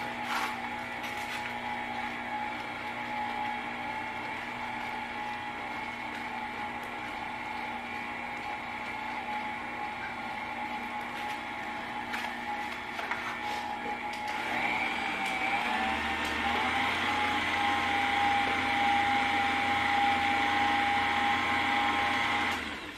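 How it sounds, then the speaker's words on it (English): Electric mixer running on low while eggs are beaten into honey bun pound cake batter, a steady motor whir that holds level and then grows slightly louder and shifts pitch partway through. "And the mixer is on low, starting off."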